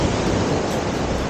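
Pacific Ocean surf at La Jolla Shores Beach, a loud, continuous wash of breaking waves with wind noise buffeting the microphone.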